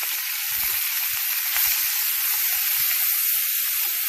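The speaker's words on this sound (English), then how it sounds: "our scallops in there. They're going for gold. It's searing it." Scallops sear in a very hot pan with onions and garlic, giving a loud steady sizzle that fills the whole stretch, close up, with a few soft low bumps beneath and no talking.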